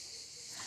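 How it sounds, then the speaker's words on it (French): Cicadas buzz in the morning at La Roque-d'Anthéron in France, a steady high-pitched hiss-like drone heard alone and faint for under a second. "les plus matinales, ce sont les cigales"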